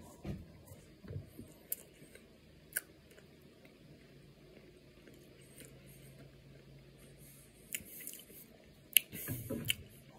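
Someone bites into and chews a Chapman's Double Decker ice cream sandwich with chocolate and vanilla ice cream, making soft, close, intermittent crunching and squishy mouth sounds with quiet stretches between.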